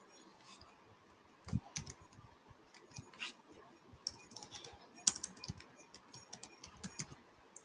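Someone types a JavaScript test script on a computer keyboard, with irregular soft key clicks and a few sharper taps close by against a quiet room.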